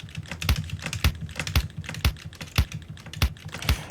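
Someone types on a computer keyboard while working in Protracker: evenly spaced, crisp key thumps at roughly half-second intervals, close and fairly quiet, with no speech.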